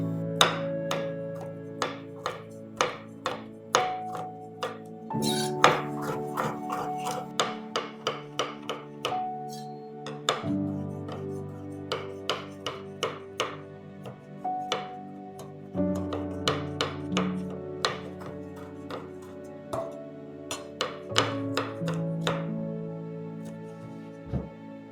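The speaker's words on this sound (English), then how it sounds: "this is the dandelion root that we got. And so the way I will deal with that is by chopping it up." Dandelion root chopped with a knife on a cutting board, a steady run of sharp, close knocks and thuds repeating in an uneven rhythm, with no talk over it.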